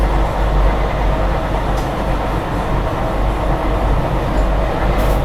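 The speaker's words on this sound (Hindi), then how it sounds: "ये ट्रेन पुश पुल टेक्नोलॉजी के साथ चल रही है क्या?" A Vande Bharat Express push-pull train with locomotives at both ends runs along in a steady, loud, continuous rumble of wheels on rails, heard close and without talk.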